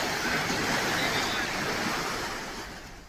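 Water rushes from twelve opened gates of the Indira Sagar dam during monsoon flooding, a dense, steady roar of churning water with wind buffeting, loud throughout and easing slightly at the end, with a voice speaking over it.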